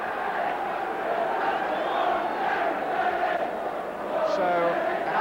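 A football crowd roars and cheers in a stadium after a Coventry City goal against Derby, a dense, sustained wall of many voices rising and holding, with some speech mixed in.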